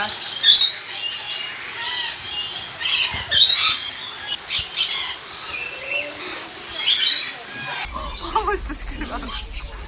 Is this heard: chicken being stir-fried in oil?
no